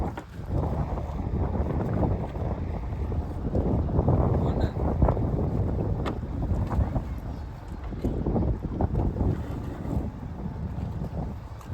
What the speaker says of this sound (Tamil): இந்த வாக்கிலே தான் இப்போ படகு நம்ம நிப்பாட்ட போகிறோம்